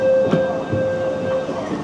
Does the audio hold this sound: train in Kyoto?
yes